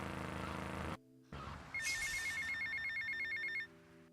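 A telephone rings in a speedrun of a video game, a bright electronic trill that starts after a thud of movement and repeats steadily for about two seconds, near and clear with no talk.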